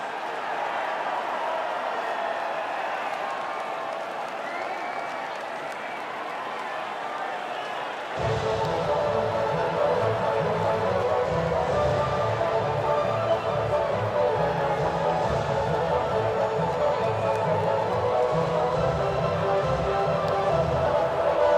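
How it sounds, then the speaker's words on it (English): A crowd in the F1 24 racing game cheers and claps at the podium as the drivers come out, a steady distant roar that swells louder partway through, with a commentator's voice over it. "the reaction from the crowd must be incredibly uplifting for them"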